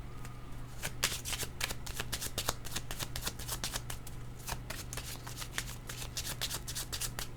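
Tarot cards are shuffled by hand in a quiet room, a soft continuous riffling with rapid, irregular flicks and slaps repeating close up throughout.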